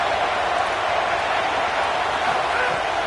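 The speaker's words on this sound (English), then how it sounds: "These fans are going absolutely nuts." Roaring home crowd noise in an NCAA football video game, a dense, steady wall of cheering fans filling a loud stadium without a break.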